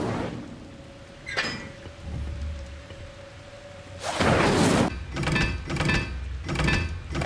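An Incendio fire spell is cast in Hogwarts Legacy: a loud, broad burst erupts, followed by several shorter whooshing bursts over a faint, steady hum.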